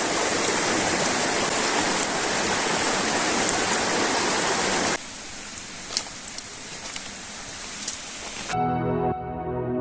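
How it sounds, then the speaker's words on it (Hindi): Water flowing out of a lake at Kalar Kahar in Jhelum, Punjab, rushing as a steady broadband stream near the microphone, then quieter and thinner after midway with a few small splashes, ending in a brief tonal burst. "इसी लेक से ये पानी जो है बहता हुआ निकल रहा है और सामने की तरफ जा रहा है"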